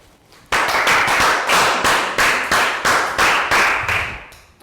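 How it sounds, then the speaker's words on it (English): Classroom applause for a student: about ten loud, sharp, evenly spaced claps in a steady rhythm, close and clear, with no talking. "Big round of applause for Pangpon"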